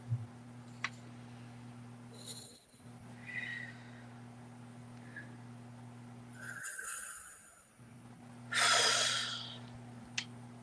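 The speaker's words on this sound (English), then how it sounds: "let's take 3 deep breaths" Three deep breaths taken slowly, soft airy inhales and exhales spaced several seconds apart over a steady low electrical hum, the last one the loudest.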